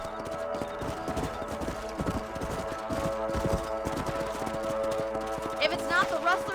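Horses gallop in the video game Red Dead Redemption, a steady rapid clip-clop of hooves running under music and ambient game sound, with a short burst of higher tones near the end.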